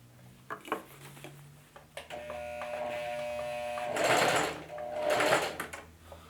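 A sewing machine backstitches on cut pant legs, its motor whirring in short bursts that swell to a louder, rattling run, close and alone without speech.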